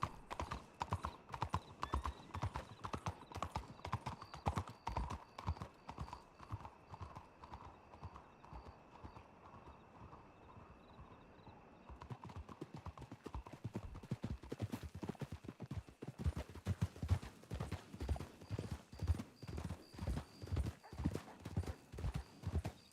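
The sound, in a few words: horse hooves clip-clopping in a video game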